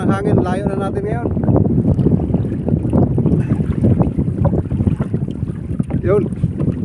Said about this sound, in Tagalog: Lakas pa naman ang hangin.